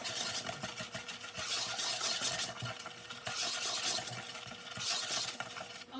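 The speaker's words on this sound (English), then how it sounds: "use a whisk or a fork and just mix all of that together" A whisk stirs flour, salt, baking powder and baking soda together in a bowl, making rhythmic dry scraping strokes in repeated bursts, close and clear with no talking.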